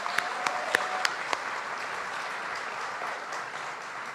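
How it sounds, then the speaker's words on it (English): An audience at the National Museum of African American History applauds a guest in a steady, fairly distant wash of clapping, with a few sharper claps near the start. "Let's give her another round of applause."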